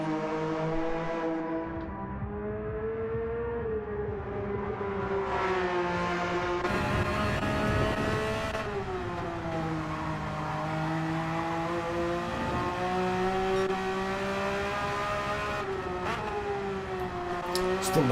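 A Porsche race car slides sideways through corners on the Nürburgring Nordschleife in a racing video game, its engine holding a loud, steady whine that rises and dips with shifts, while a commentator talks over it.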